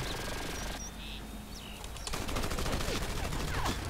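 Rapid laser-style weapon fire from a flying aircraft in Battlefield Heroes, a dense burst of crackling shots that swells in the second half amid game effects and a few high chirping tones.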